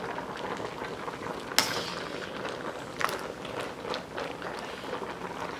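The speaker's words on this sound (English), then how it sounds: "So now I'm gonna give it a stir to mix it up." A long spoon stirs a pot of cooked pears and their juice, producing soft scraping and wet swishing with a couple of sharp knocks against the pot, close and steady with no talking.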